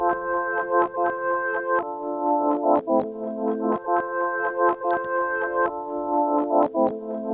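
MIDI chords chopped per bar and bounced to audio with delay in Ableton Live, a sustained synth chord stack that restarts at each bar with sharp transients and shifting voicings, playing alone at steady volume.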